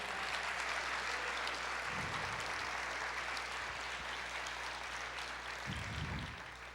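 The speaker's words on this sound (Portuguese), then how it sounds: "aplauda o Senhor" A church congregation applauds after a call to praise the Lord, a steady broad wash of clapping filling the whole span without speech, easing off slightly at the end.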